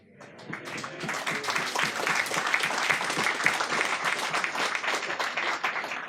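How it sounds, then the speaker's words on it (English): An audience at a UKIP political event in Bolton breaks into steady applause, many hands clapping in a dense wash that swells quickly and holds, fairly distant in the room. "as you've just applauded me"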